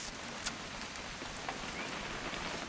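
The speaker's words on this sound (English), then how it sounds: "It's gonna rain the whole weekend, isn't it?" Steady rain falls in What Remains of Edith Finch, an even wash of drops on surfaces with a few slightly louder close splats and no voices.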